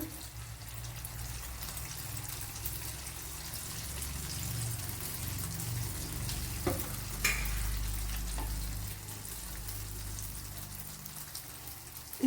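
Unni appam frying in ghee in a pan: a steady, close crackling sizzle that runs the whole time, with a few small sharper pops near the middle.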